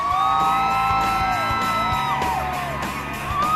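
A large crowd in California screams, whoops and cheers during the North American tour of Prince William and Catherine, Duchess of Cambridge, with shrill voices rising and falling in a loud, unbroken roar.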